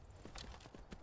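Horse hooves clip-clopping in the video game Skyrim, several quick, quiet hoofbeats in an uneven rhythm over a short stretch.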